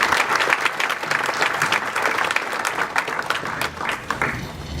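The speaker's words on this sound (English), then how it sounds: "please give Philip a big round of applause" A conference audience at a workplace-technology event in New York bursts into sustained, even applause, a dense wash of many hands clapping nearby with no voices over it.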